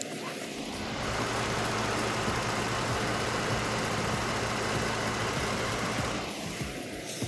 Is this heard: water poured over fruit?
no